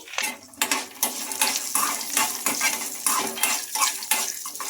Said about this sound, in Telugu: ఇప్పుడు ఇందులోకి పల్లీలను అయితే వేసుకోవాలి